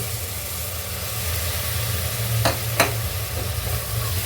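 Curd is stirred into a potato biryani masala in a hot pan, a continuous close sizzle and frying hiss with a low hum underneath and a couple of sharp scraping clicks from the spoon.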